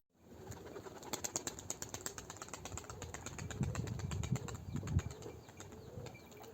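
Wings flap in a quick rhythmic flutter close by, with soft cooing of pigeons mixed in as a bird lands and settles on a person's hand.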